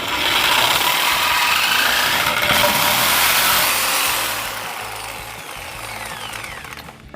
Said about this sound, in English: I'm going to be using the reciprocating saw to do this.